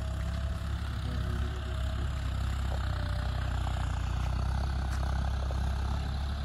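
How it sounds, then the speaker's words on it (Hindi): A motorbike engine running steadily on a farm, giving a continuous low, rumbling drone at an even level throughout with no break. "बाइक चल रही है।"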